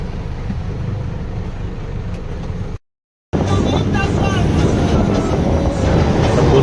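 A train runs along the railway with a steady rumbling roar close by, briefly cut to silence before resuming louder with rattling and clatter from the carriage.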